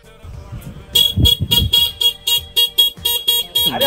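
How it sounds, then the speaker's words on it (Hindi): A car horn honks in a rapid run of short, loud toots, about a dozen blasts in quick succession, with a brief voice at the start. "अरे हॉर्न क्यों बजा रही है?"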